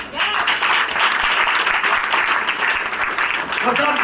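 Steady audience applause fills a motivational speech event in Delhi, a continuous crackle of many clapping hands at moderate loudness, with a voice talking faintly beneath it.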